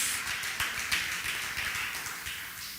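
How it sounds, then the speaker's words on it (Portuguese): A church congregation applauding and glorifying God, a soft, even patter of many hands clapping together, fairly distant and steady for about three seconds. "pode aplaudir e glorificar o nome dEle"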